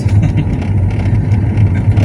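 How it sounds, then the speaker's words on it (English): Alfa Romeo 939 Spider with a 2.4 MultiJet five-cylinder diesel driving along the seaside, a steady low engine drone with road rumble throughout, loud and constant, no talking. "5 cylinders engines are amazing. They sound like a gasoline engine driving."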